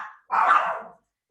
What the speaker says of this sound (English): can you guys hear the dogs really loud?